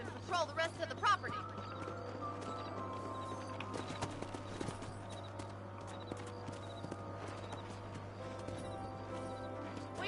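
Horses moving in Red Dead Redemption, a steady clip-clop of hooves over a constant low drone, with brief voices near the start and the hoofbeats continuing at moderate loudness throughout.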